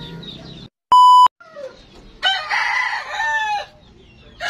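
Backyard chickens and a rooster crow, with a sharp electronic beep early on, then a loud, drawn-out crow followed by clucking, close and alone without speech.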